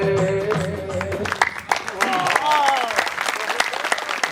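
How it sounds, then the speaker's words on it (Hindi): Audience applause at a cultural festival program after a devotional song and play, loud sustained clapping from a crowd with a voice calling out over it and fading. "जोरदार तालियां, जोरदार तालियां, हाथ उठा के तालियां।"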